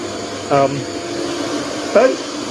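Planer thicknesser running steadily with a broad whirring roar of cutting wood, close and continuous, while voices speak briefly over it.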